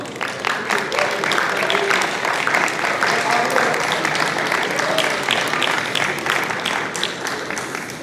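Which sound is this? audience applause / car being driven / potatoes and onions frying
audience applause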